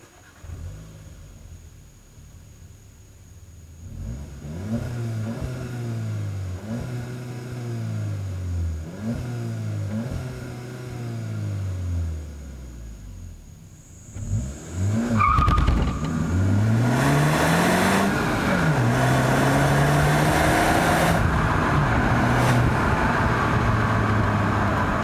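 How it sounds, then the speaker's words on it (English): Volkswagen Jetta GLI sport sedan (2019) engine: a series of rising revs in steady repeated sweeps, then a hard acceleration with a loud, sustained pull and climbing pitch through the gears, close and clear with no talk. "This is a GLI, so let's hear what that engine sounds like."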